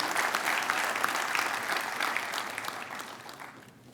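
An audience at a university PhD graduation function claps in sustained applause for the graduates, a dense wash of hand claps that gradually tapers off toward the end, no talking over it.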